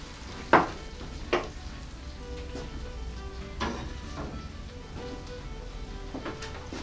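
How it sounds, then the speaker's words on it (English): Kidney beans fry with pepper in a pan, a soft steady sizzle broken by a few sharp scrapes and clinks of stirring, the loudest near the start and fainter ones spaced through the rest. "let's get that stirred up with a little bit of pepper in"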